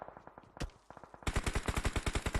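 Gunfire in the mobile battle-royale game BGMI during a pro esports match: a few spaced single shots, then a sustained rapid burst of automatic fire, close and sharp.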